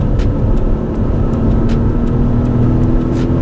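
A Maserati MC20 supercar accelerates on a track, its engine a loud, steady, close roar that holds for the whole stretch with no voices over it.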